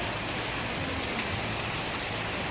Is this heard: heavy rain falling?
yes